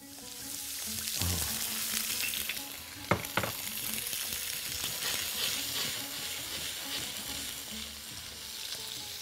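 Onions sizzle and fry steadily in hot oil in a home pan for fish-tray dishes, a continuous crackling hiss with a few brief clatters of utensils midway, fairly close and without talk.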